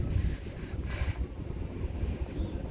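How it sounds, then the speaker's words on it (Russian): Gusty wind buffets the microphone with a steady low rumble and soft rushing, rising briefly in a stronger gust midway. "Ветерочек."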